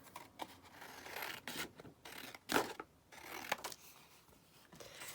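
Scissors snip down a playing card for a collage, giving a few short, close crisp cuts and scraping rustles, with one louder snip midway and no talking.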